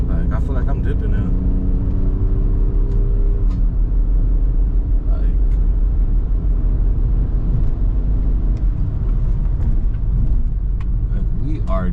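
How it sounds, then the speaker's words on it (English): A BMW E46 with its catalytic converter removed accelerates hard through the gears, a loud continuous engine drone heard from inside the car, rising in pitch with each gear, while someone talks over it. "now it's flying through the gears."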